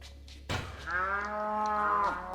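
A Minecraft cow from the GreedyCraft modpack lets out a single long, clear moo that starts abruptly and holds steady for about two seconds over a faint low hum, with no talking.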